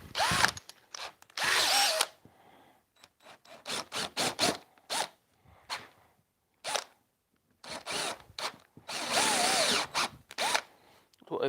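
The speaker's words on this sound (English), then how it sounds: "So I'm now going to use a slightly bigger drill." Bursts of a power drill whirring as it bores into wood in a woodturning workshop, in short repeated runs, some long, some brief, with quiet gaps between; close and loud.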